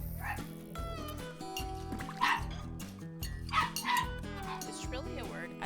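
Several shrill, high yapping barks come from a small white dog nearby, sounding in short bursts over continuous background music.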